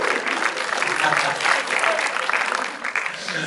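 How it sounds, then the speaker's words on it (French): An audience at a film premiere screening of Vermines, during the cast and crew presentation, applauds with dense, steady clapping that fills the room for several seconds, sustained and fairly loud. "On peut l'applaudir encore une fois s'il vous plaît."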